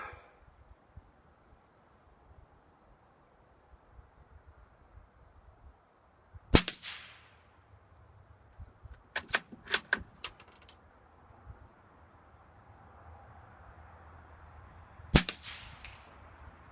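Suppressed rimfire rifle, a Ruger American Rimfire or Savage MKII FV-SR, fired five times outdoors: sharp, short, muffled cracks spaced irregularly over several seconds, with a faint quiet background between them.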